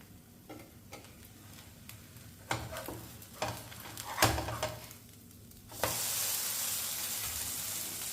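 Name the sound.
moong dal vegetable omelette frying in a covered pan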